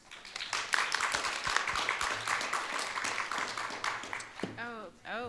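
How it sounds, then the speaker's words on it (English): Audience applause for panelists at a community reinvestment program session, steady clapping throughout with voices mixed in, ending with a few brief rising tones. "Let's give a warm round of applause for our panelists."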